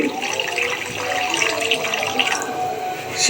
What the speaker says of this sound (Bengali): একটু পানি ঢেলে দিচ্ছি